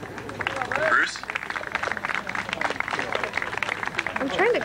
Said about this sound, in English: I'm trying to clap.